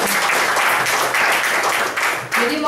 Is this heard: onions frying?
no